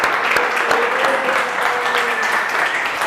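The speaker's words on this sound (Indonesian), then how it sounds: "tepuk tangan untuk nomor 1 ya" Classroom applause for the first student group after their presentation, a dense steady clatter of many hands clapping close by throughout, with no voices over it.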